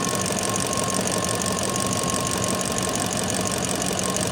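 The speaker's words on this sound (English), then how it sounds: "You can hear the injectors from the gas. Here they click now. The clicking now is the injectors." Rapid, steady mechanical ticking of fuel injectors in a Land Cruiser engine bay, loud and close, continuing without pause over a dense engine hum.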